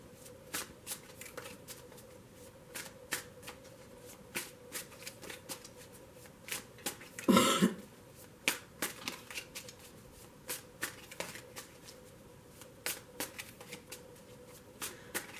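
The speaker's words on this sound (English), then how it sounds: "I'm going to start shuffling this deck." A deck of tarot cards is shuffled close up in a quiet room, with a steady run of short papery riffles and snaps and one louder, longer burst of shuffling midway.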